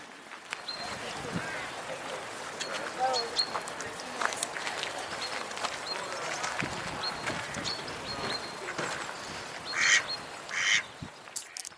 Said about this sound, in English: I went to look at the ducks. There are quite a lot of them here.